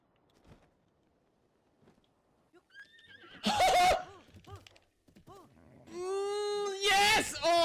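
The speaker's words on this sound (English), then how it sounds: "Freaking horse" A horse in the Tetris Effect video game whinnies loudly twice, the second call longer and more drawn out, after a quiet stretch with faint game sounds.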